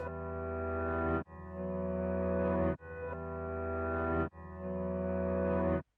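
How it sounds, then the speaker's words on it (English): Four sustained, swelling tones that fade in and cut off abruptly, a backward-sounding piano chord repeated, loud and alone. "So it's just the first sound but reversed."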